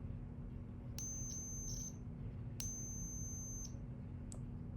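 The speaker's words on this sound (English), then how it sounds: "I'm going to grab my multimeter and I'm going to set it to the continuity testing" A multimeter in continuity test mode gives two high, steady electronic beeps, each lasting about a second, over a low constant hum; a brief faint chirp follows near the end.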